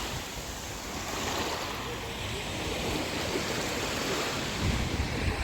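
Sea waves breaking steadily on Side beach in Turkey on a November day, a continuous close wash of surf with light wind noise and no talk.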